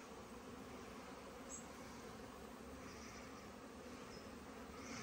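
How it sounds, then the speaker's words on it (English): Bees hum in a steady, faint, continuous drone around apiary colonies, with no voices over it. "Lots of bees and lots of colonies."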